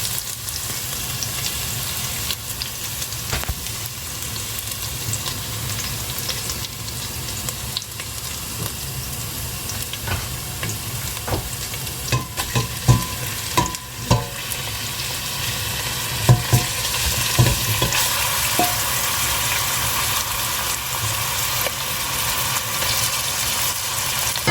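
Ground meat frying in a pan for Cameroonian-style meat pie filling, a steady broad sizzle running throughout with occasional scraping and clacking of a utensil stirring it, louder bursts in the middle, no voices.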